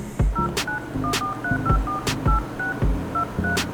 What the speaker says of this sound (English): I have to call Puria.